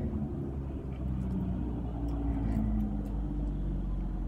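A car pulling over at a roadside firewood stand gives a steady low engine rumble and road noise from inside the vehicle, continuous and moderately loud with a few faint higher clicks.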